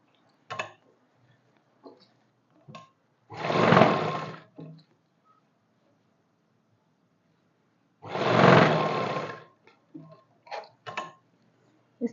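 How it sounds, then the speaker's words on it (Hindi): A sewing machine stitching a trouser pocket runs in two bursts of rapid whirring of about a second each, separated by quiet gaps with small clicks and handling knocks. "इस तरह से आपने पक्की सिलाई कर लेनी है दोनों साइड से।"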